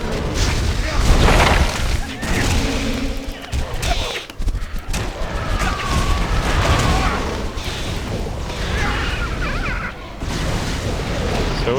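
Firestorm spell explosions in the action RPG Torchlight 2, a dense rumble of booms and bursts running continuously under someone talking.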